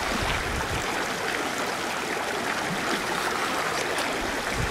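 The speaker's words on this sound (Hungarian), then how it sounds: "itt változik át a gleccser folyóvá, itt születik az Isel" Glacial meltwater stream at the source of the Isel river, a loud, steady rushing and splashing of water over rocks, continuous and close.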